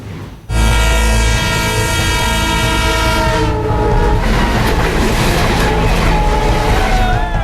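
An Indian Railways passenger train packed with passengers, running at about 50 to 60 km/h, roars past close by with a long blaring horn and a loud rumbling, clattering run that continues steadily.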